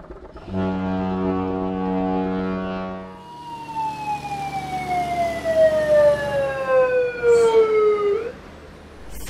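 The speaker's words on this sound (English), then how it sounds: "Boat." A boat's deep horn sounds one loud, steady blast. It then gives way to a long, high tone that slowly falls in pitch over a rumbling background.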